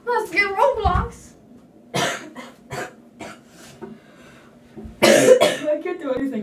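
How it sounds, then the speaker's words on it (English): Several harsh, throaty coughs in close succession, then a few more isolated bursts, loud and near, with a short heavy cough near the end. "I can't do anything without coughing today."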